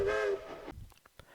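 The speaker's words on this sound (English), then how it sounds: "This was the first time that Number 9 and Number 12's whistles were heard together again in many, many years." Whistles of the ET&WNC 4-6-0 Ten Wheeler steam locomotives Number 9 and Number 12 sound in a short, bright blast that cuts off quickly, followed by a few faint knocks and clatter.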